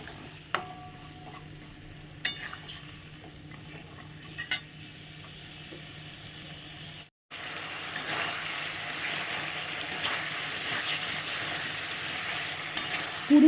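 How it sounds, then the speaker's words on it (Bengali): Potatoes and drumsticks sauté in a pan for a fish curry, starting with a soft sizzle and a few sharp spoon taps, then after a brief cut a louder, steadier frying hiss with stirring scrapes, close by and without talk. "তো আমি এবার আলু আর সজনে ডাঁটাটা এর সঙ্গে ভালো করে এবার কষাবো।"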